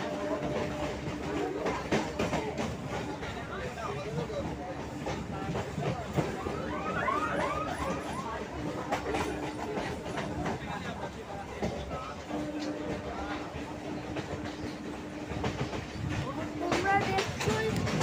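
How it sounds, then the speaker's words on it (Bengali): A Kalyani Bazar local train runs on its rails near Patipukur in Kolkata, giving a continuous rumbling roar with rhythmic clickety-clack and faint passenger chatter inside the carriage. "আমাদের ট্রেন এখন পাতিপুকুরে ছাড়লো।"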